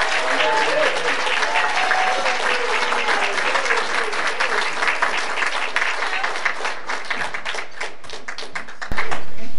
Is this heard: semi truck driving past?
no